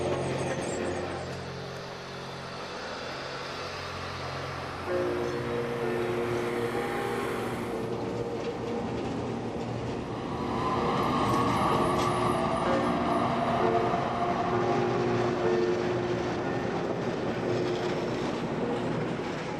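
An East German Tatra bogie tram runs on metre-gauge track in Magdeburg, a continuous rumbling roll with wheel noise that swells louder and fuller in the second half.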